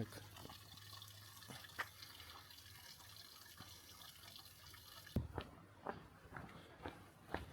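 Water trickling and dripping in an Alpine mountain stream, a steady faint wash with scattered drip-like plinks that grow sharper and closer toward the end.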